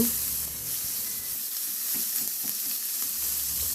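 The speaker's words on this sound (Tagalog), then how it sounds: "bawasan ko yung mantika at i-sear ko na rin yung pork liempo" Pork belly sears in oil in a pan, making a continuous close hiss and crackle of frying with a few soft stirring sounds, and no speech.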